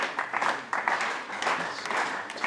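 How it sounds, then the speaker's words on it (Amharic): A quiz-show audience applauds the winning contestants with steady, moderately loud clapping that runs through the whole moment, rising and falling slightly, with no voices over it. "ጭብጨባ ያስፈልጋቸዋል"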